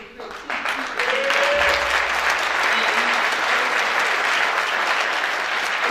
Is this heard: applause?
yes